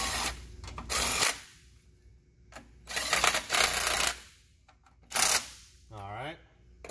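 Crank case breather bolts being run up on a DD15 engine: several bursts of rapid mechanical ratcheting clatter separated by quiet pauses, close by, with a brief voice near the end.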